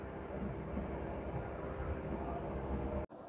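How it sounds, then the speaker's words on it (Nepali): A train rolls along the Romanian side of a river at the Romania–Ukraine border, producing a steady, distant low rumble that stops abruptly near the end. "यो ट्रेन युक्रेनको होइन यता रोमानियाको उतापट्टि"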